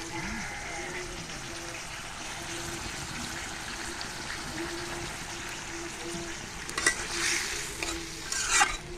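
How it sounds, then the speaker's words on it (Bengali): Soaked meat sizzles and is stirred in a pan as it is sautéed, a steady close frying hiss with soft scraping, and a few louder clatters near the end. "ভালো করে কষাই নিব"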